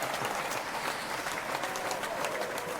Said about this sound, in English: We can applaud.